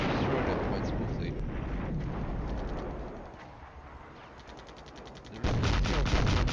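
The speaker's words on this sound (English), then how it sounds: "There is still artillery fire," Artillery fire in the wargame Flashpoint Campaigns: Southern Storm rolls as a continuous crackling bombardment, easing off midway and then bursting back louder with rapid, repeated reports.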